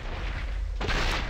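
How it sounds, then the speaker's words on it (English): A cannon in a Legend of Zelda game is lit with a fire staff and blasts a hole: a single loud, deep boom that bursts in suddenly after a low, steady rumble. "This will blow up a hole."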